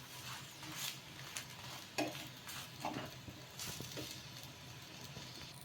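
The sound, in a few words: egg paratha frying in oil on a pan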